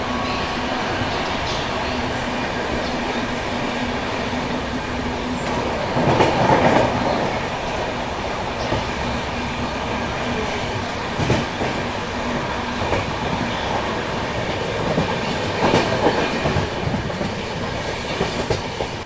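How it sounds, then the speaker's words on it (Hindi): On board the Mumbai-Hapa Duronto Express as it runs at speed through Vapi station, a loud steady rail rumble carries rhythmic clickety-clack wheel beats and a few sharper clanks, with no talking. "और यहाँ पे अच्छी खासी रफ्तार में वापी रेलवे स्टेशन को स्किप कर रहे हैं।"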